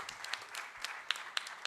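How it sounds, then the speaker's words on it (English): Brief, light clapping from a hotel audience greeting a president, with a few crisp individual claps standing out from a soft background patter. "A big applause for Sir."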